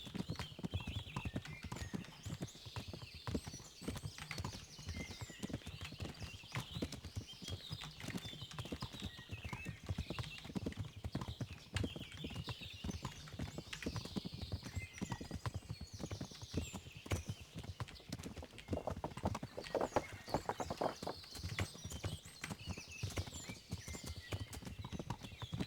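Horse hooves clip-clopping in the medieval game Kingdom Come: Deliverance, a continuous brisk rhythmic patter of several horses on the move, moderately close, with occasional snorts and a faint whinny.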